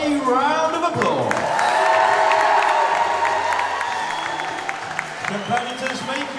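A crowd applauds and cheers at a bodybuilding competition. Clapping and whoops sit under an announcer's amplified voice and music, swelling early and then tapering off.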